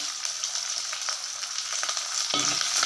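Garlic and curry leaves fry in oil for a South Indian kara kuzhambu, giving a close, continuous crackling sizzle with a few stirring knocks and a fuller clatter just before the end.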